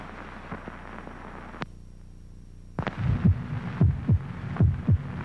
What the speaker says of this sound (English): This is the sound of a human heart.